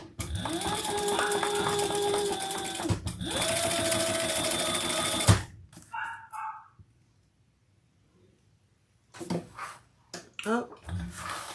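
A sewing machine stitches leather binding for a waist pack in two loud, steady whirring runs with a short pause between them, then stops; a dog barks faintly and someone talks afterward.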